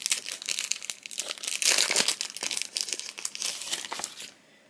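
Crinkly plastic packaging is torn and crumpled up close, a dense run of rustling rips that fades out at the end.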